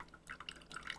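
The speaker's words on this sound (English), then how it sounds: "once you start the pour, which we haven't started yet, you're gonna get a few drops" Espresso drips from a home machine at the start of the pour, quick light plinks in an uneven patter, faint and close, with no talking.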